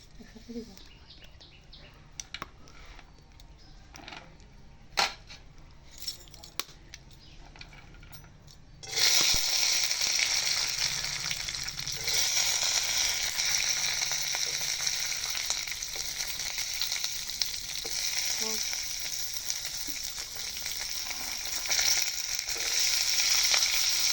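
Chickpeas, coconut, peanuts and a little ginger are tipped into a hot wok. After several quiet seconds of faint clicks and distant bird chirps, a loud, sustained sizzle erupts and carries on steadily to the end.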